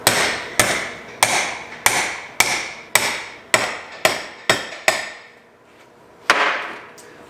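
A hammer strikes metal about ten times in a steady rhythm, each blow ringing sharply, followed by a pause and one final hit.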